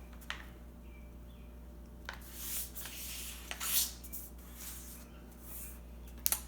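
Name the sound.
folding a sheet of paper in half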